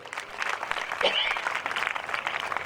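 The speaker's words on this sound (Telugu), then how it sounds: "ఒప్పుకున్న వాళ్ళు చప్పట్లు కొట్టండి గట్టిగా" Brief applause from a church congregation, a steady patter of many hands clapping with a faint voice rising over it.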